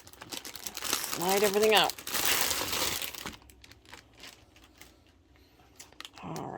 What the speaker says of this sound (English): Sorry for all the crinkling.